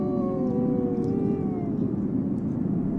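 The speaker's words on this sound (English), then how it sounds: "Howling serves to bring the pack together when it's spread out" Wolves howl in long, wavering sustained tones over a steady broadband background, several pitches gliding slowly downward together, continuous and fairly loud throughout with no talk.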